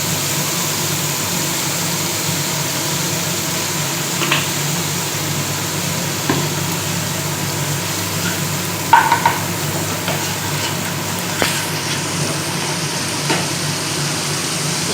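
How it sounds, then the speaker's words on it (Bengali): Chopped onions frying in oil in a pan give a steady, close sizzle that runs the whole time, with a few soft scrapes and knocks from occasional stirring. "পেঁয়াজ যতক্ষণ না তেল ছাড়ে ততক্ষণ ভাজতে হবে"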